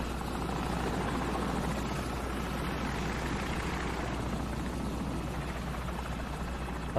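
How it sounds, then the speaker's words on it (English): An enemy helicopter in Call of Duty 4: Modern Warfare flies overhead, its rotor chopping steadily with a heavy, continuous thrum, sounding fairly close and sustained throughout. "Enemy helicopter. Get down."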